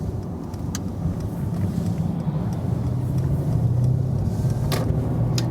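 A Mercedes-AMG C63 S Coupé with a sports exhaust accelerates, heard from inside as a deep, steadily building engine rumble and drone with road noise and no talking.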